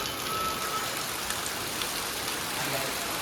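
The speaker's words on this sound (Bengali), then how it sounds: "কন্টিনিউ বৃষ্টি হচ্ছে গাইস" Steady, continuous rain falling on a masonry work site, a constant even hiss with no clear breaks.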